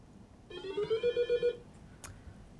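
An electronic buzzer or bell trills in a rapid pulsing burst of about one second as a quiz contestant rings in, ending with a short click in a quiet room at an elementary school derby.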